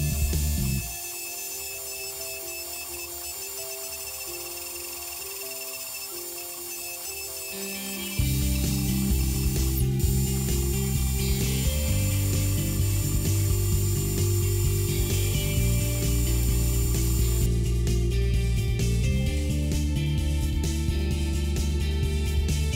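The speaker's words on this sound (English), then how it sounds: "machine away the excess" A milling machine cutting aluminum makes a steady, loud drone with a grinding, ratcheting edge, starting after a quieter stretch and running continuously with shifting tones.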